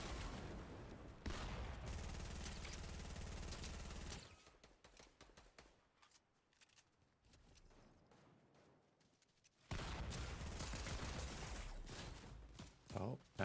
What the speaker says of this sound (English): Nice shooting by Chaos.